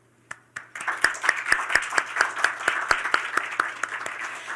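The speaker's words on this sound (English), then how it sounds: "Please join me in welcoming him with a warm round of applause" An audience at a development cooperation energy forum welcomes a panel speaker with applause, a modest crowd whose sharp, evenly paced claps build after a couple of early strikes and carry on steadily, close and clear.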